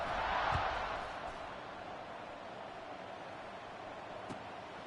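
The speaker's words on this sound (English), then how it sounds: "this crowd is buzzing after that last score" Stadium crowd in the College Football 26 video game buzzing at a steady broadband roar after a score, with a louder swell at the start and faint thuds scattered through the sustained noise.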